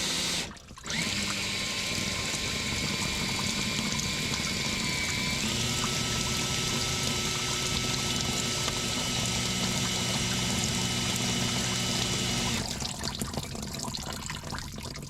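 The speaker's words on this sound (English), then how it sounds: "there was just big goops of sludge coming out of that drain port" Thick sludge gushes steadily from the transmission drain port of a 1957 Autocar truck, a continuous close pouring, splattering rush that starts abruptly after a brief pause and runs for over ten seconds before easing.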